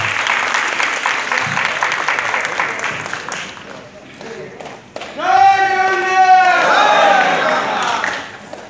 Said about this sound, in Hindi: जोर करताली ओ आशा करिबु